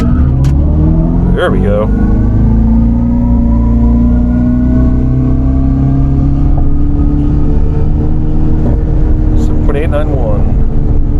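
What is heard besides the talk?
electric General Lee car launching, burning its tires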